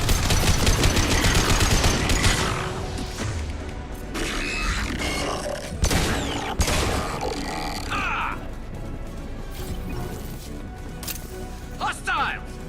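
Sustained automatic gunfire rattles through a Mass Effect 2 firefight, loud and dense at first, then thinning into scattered shots amid grunts, combat chatter and mechanical noise.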